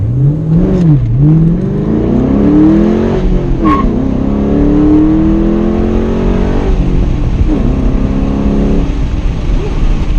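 A 2007 Ford Mustang GT engine revs hard and launches, pitch climbing through the gears as it pulls away, loud and close, with a brief tire chirp.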